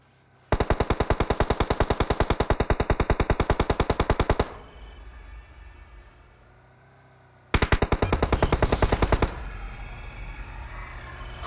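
Two bursts of rapid automatic gunfire in a PUBG-style rush match, a long loud rattling stream of shots, then a pause with faint background, then a shorter burst of fire, with no talking over it.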